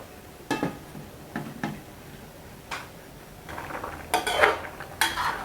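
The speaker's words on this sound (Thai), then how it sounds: "เดี๋ยวผมจะหาฝาหม้อมาปิดไว้นะครับ" A few sharp metallic clinks and clatters of a pot lid being handled and set down on a pot of cooking curry, with brief pauses between.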